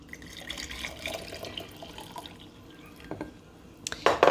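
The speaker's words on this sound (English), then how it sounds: "I'm going to pour this grape juice into the jar here" Grape juice mixed with vinegar poured into a jar, a close trickling, dripping liquid sound that gradually builds, ending in a few louder splashy pours near the finish.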